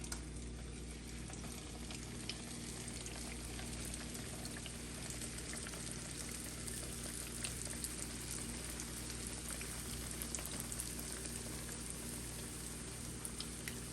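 Jamaican flour dumplings frying in hot oil, a steady dense crackle and sizzle that holds level and unbroken throughout, close and alone with no voices.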